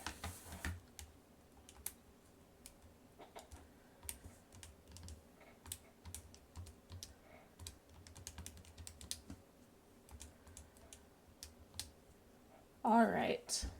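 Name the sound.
typing on a calculator keypad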